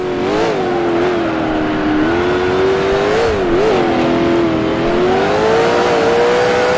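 Race car engine downshifting to first gear in Grand Prix Legends at Mont Tremblant during a 1966 Can-Am race, a loud close engine whine whose pitch dips and rises through gear changes, alone without talk.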